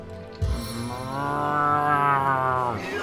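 A cow moos in Divinity: Original Sin, one long, loud, drawn-out low bellow that rises slightly and then fades, heard alone with no talking over it.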